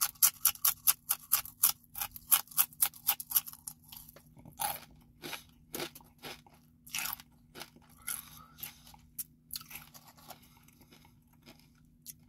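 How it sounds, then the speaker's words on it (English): Close front-teeth crunching of Hal's NY kettle cooked jalapeno potato chips: a fast run of sharp, crisp bites, then slower, scattered crunches with softer chewing between, and no talking. "let's not forget that messy front teeth crunch."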